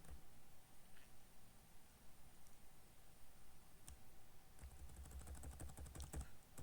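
A computer keyboard is pressed for a copy shortcut in a quiet room, giving a quick cluster of faint, crisp clicks near the end after near silence.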